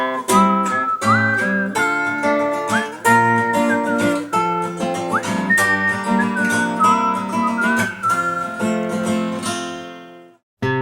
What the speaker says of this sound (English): I mainly like the solo part with whistling.